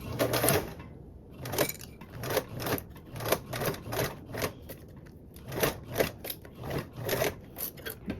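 A sewing machine stitches along a bag handle in quick rhythmic bursts, rattling needle strokes repeating steadily with brief pauses between runs, loud and close with no talk.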